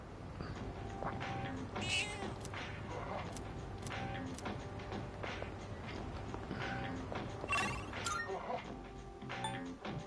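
A cat meows repeatedly in Persona 3 Reload, the short game-sound calls coming at intervals over quiet background music with light footstep-like ticks, no one talking.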